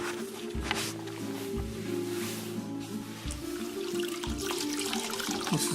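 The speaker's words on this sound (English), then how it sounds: "Soapy water again." Soapy water is used to wash a Nissan 370Z Nismo, with splashing, trickling water and a few wet thumps close by. No one talks.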